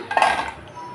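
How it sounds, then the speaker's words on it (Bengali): A lid comes off a metal cooking pot of thin fish curry, giving a brief metallic clink and scrape, close and fairly loud, followed by quiet. "ঢাকনা খুলে দিলাম।"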